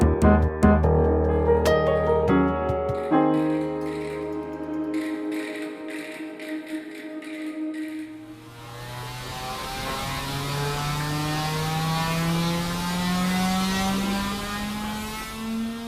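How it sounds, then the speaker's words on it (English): Low steady mechanical hum and rattling vibration from a shaker table for testing scientific instruments, shifting midway into a broader droning buzz with a slowly rising tone, continuous throughout with no talking. "What you're hearing is a shaker table made for shaking scientific instruments."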